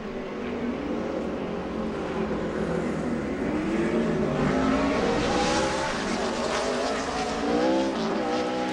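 A NASCAR Sprint Cup car on a qualifying lap at Dover roars loudly and steadily down the back straightaway, its engine note rising and falling through the whole stretch with no voices.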